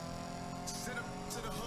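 A rickety car engine in the video game Need for Speed Payback drones steadily with a rattling, uneven tone, layered with harmonic whine and a couple of brief hissing bursts.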